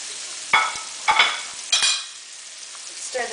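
Chopped red pepper, onions, carrots and celery hit hot oil for pasta primavera, three loud scraping stirs with sizzling after each, then quieter frying.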